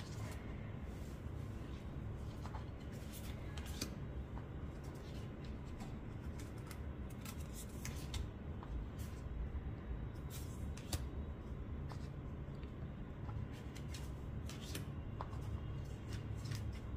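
Tarot cards being shuffled by hand, a soft continuous riffle and slide of card stock with scattered light taps, close and fairly quiet, no talking.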